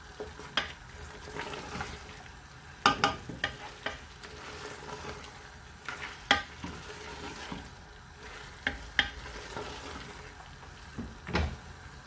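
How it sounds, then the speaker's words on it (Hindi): Spinach and mutton stirred together in a pot for a milky palak gosht, a steady low sizzle broken by a dozen or so sharp scraping and clattering strokes of the spoon at irregular intervals, close by and with no talk. "पालक को मैंने इस मटन में डाल दिया है। अब मैं इसको अच्छी तरह से मिक्स करने लगी हूँ।"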